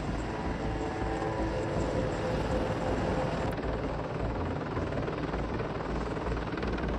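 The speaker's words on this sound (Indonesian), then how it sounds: "Helikopter ini dapat melaju pada kecepatan tertinggi hingga 300 km per jam berkat dua mesin, Klimov TV-3117KM" A Mil Mi-28 Havoc attack helicopter with twin Klimov TV-3117KM engines flies by, its rotor and turbine roar loud, steady and unbroken throughout, with no voices.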